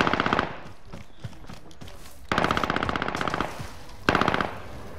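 Automatic weapon fire in Call of Duty: Modern Warfare multiplayer, three loud, close bursts of rapid shots separated by brief lulls with faint background noise, and no talk.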